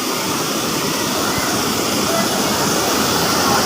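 Spring water overflowing and rushing at a resort pool, a loud continuous roar of flowing water close by, with a voice talking over it.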